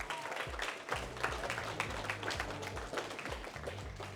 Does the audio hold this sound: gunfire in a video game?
no